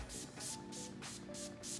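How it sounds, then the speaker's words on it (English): All-nighter makeup setting spray is misted on in about six quick, evenly spaced, hissing spritzes, close to the microphone and fairly faint, with no talking. "I'm gonna go in with my all-nighter setting spray"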